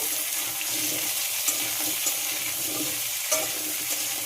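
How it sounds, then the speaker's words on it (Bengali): Long strips of papaya and potato frying in a pan, a continuous watery sizzle with occasional stirring scrapes and light clinks, steady and close, with no one speaking. "পেঁপে আর আলু খুব ভালোভাবে ভেজে নেব।"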